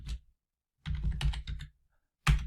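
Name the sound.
typing a name on a computer keyboard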